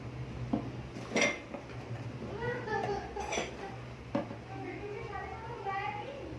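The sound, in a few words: small ceramic cups and coffee mugs being handled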